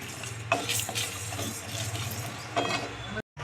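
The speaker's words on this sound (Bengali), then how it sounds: "শুকনো কড়াই হালকা করে একটু নেড়ে নেব।" A utensil stirs spices and dried chillies as they dry-roast in a hot, empty wok, making scraping and clinking strokes over a low hum. Two sharper knocks stand out before the sound cuts off briefly near the end.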